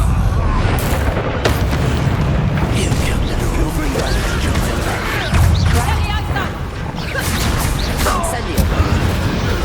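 An Expelliarmus spell cast in Hogwarts Legacy bursts out as loud booming, crashing blasts amid a dense, continuous game-battle din, with voices calling out over it.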